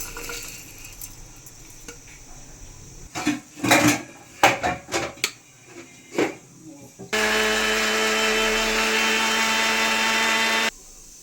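Mixer grinder powdering lightly fried spices and cashews for country chicken curry, a steady loud whirring drone of about four seconds that follows several short clattering knocks as the jar is handled.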